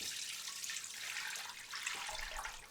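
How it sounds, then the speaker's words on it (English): Hot oils, including red palm oil heated to 215 degrees, poured into a crock pot for hot-process liquid soap, giving a soft, steady liquid stream sound, faint and close, with no talking. "I'm going to pour that in the crock pot."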